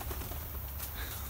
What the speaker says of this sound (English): Yeah, I think those are turkeys.